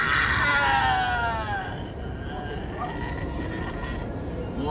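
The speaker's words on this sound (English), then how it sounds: "a passenger unleashing a blood-curdling, almost demonic scream" A passenger on a New York subway lets out a loud, wavering scream that fades into rumbling train noise and murmuring from the surrounding crowd.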